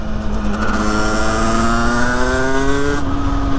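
A small motorcycle with an overheating engine and a poorly set carburetor revs up close, its buzzing engine tone climbing steadily in pitch for about three seconds before easing off.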